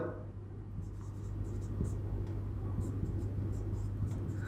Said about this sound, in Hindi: तो लिखेंगे हम लोग यहां पर